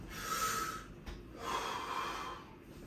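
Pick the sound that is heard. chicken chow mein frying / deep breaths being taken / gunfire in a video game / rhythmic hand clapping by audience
deep breaths being taken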